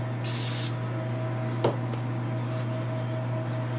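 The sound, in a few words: spraying Duplicolor gloss car paint from a spray can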